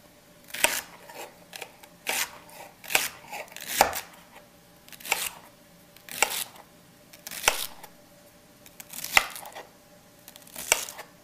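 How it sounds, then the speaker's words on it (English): Celery being chopped with a knife on a board for chicken cacciatore, a slow, regular series of crisp, close cuts about one every second and a half, each with a short crunchy snap, no talking. "we're going to chop them up like that"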